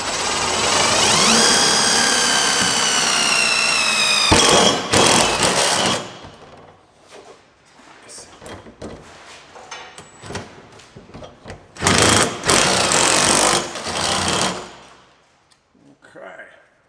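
A power drill with a 1/2 inch step bit bores into the steel trunk pan of a 2009 Toyota Camry Hybrid during a tow hitch install, loud bursts at the start and again midway, separated by quieter handling.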